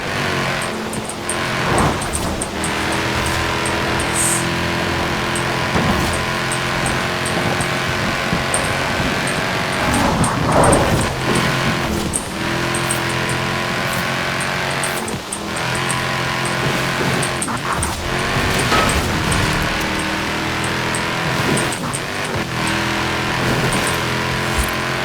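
A hovercraft in Forza Horizon 4 runs with a steady, loud engine drone that keeps going without pause, with brief swells and rough bursts breaking through now and then.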